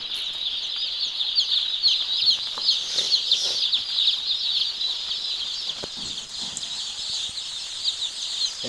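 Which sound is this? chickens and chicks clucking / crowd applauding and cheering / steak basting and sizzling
chickens and chicks clucking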